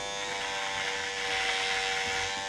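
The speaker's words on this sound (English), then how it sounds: "even though these are cordless mini clippers" Cordless mini hair clippers work through thick, dense hair during a skin fade haircut, giving a steady, continuous electric buzz that holds close and even throughout, with no talking.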